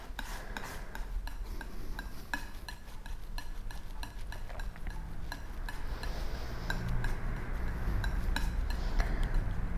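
A palette knife mixes alizarin paint on a palette with repeated close scraping and tapping strokes. The rhythm is irregular and the sound is fairly quiet, with no talk.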